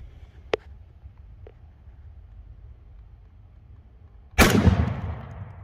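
A single loud boomy shot from a Hi-Point JXP 10mm pistol loaded with hot Nosler ammunition, a sharp blast with a ringing decay after a few seconds of quiet outdoor background with faint clicks.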